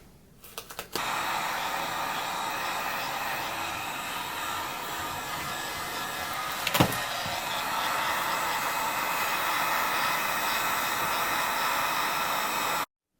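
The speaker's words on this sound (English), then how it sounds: "then hit it with the heat gun, and it will give you like a really cool fleshy tone" A heat gun blows over a plastic Halloween store skeleton, producing a steady, loud, close airy roar that starts abruptly and holds, with a brief clatter partway through.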